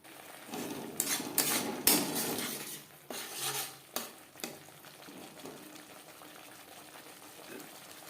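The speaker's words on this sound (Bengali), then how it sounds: "কাঁচা গন্ধ যাওয়া পর্যন্ত নাড়াচাড়া করে নেব" Spices stirred in a pan for ghugni, with a spoon scraping and clinking against the metal in a busy burst of strokes over the first half before settling into a soft, quiet sizzle.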